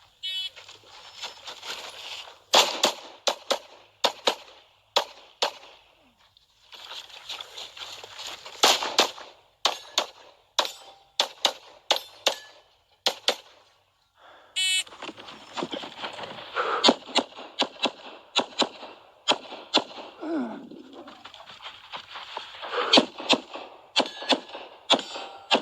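Pistol shots from a Gen 5 Glock 17 with a Zev slide during a USPSA Carry Optics match stage, sharp cracks in fast rhythmic strings and pairs separated by short pauses, loud and close throughout.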